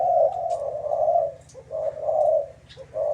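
A caged competition dove coos in repeated rounded phrases, close and clear, with short pauses between calls.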